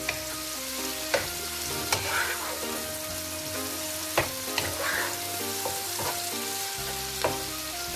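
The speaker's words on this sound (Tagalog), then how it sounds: "Medyo lutuin lang po natin ng kamatis." Tomatoes, garlic and onions being sautéed in oil for a mung bean stew. A steady close sizzle runs throughout, broken by regular sharp knocks and scrapes of the spatula against the pan.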